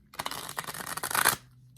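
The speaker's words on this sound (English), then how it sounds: "I'm just doing one shuffle here and then I'll cut it a few times" A tarot card deck is shuffled once in a quick riffle, a dense fluttering burst of card edges lasting about a second, close and moderately loud, then silence.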